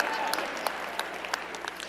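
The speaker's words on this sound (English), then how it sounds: "You can clap." A lecture-hall audience at a talk with the Nevada governor breaks into scattered, moderate clapping that stays even over two seconds, with a voice speaking over it.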